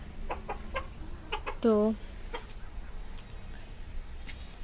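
A single brief cluck from a rooster, close by, among scattered faint ticks and background noise, with a short spoken word just before.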